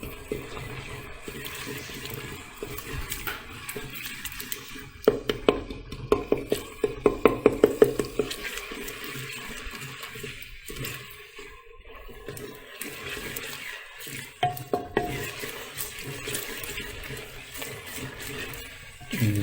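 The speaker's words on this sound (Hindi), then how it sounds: "लहसुन अदरक को थोड़ा सा हम पकाएंगे ताकि कच्चा ना रह जाए" Garlic ginger paste frying with browned onions in a pot, a soft steady sizzle broken by a quick run of spoon scrapes and clacks in the middle and scattered knocks later.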